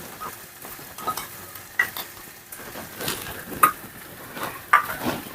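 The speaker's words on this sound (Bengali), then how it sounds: "এরপর আমি দিয়ে দেবো পোস্তটা বেটে রাখা পোস্তটা এবার আমি দিয়ে দিচ্ছি" Ground poppy seed paste goes into a hot pan for a drumstick-flower dish, a soft sizzle under repeated scraping and stirring, with a few sharp metallic clinks of a spatula against the pan.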